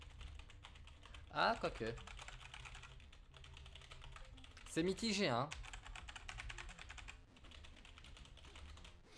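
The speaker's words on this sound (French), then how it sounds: "je pense qu'il fera un peu moins de bruit quand même que mon ancien clavier" Rapid typing on a Razer BlackWidow V2 keyboard clicks on continuously, fairly quiet, with two short bursts of someone talking in French over it.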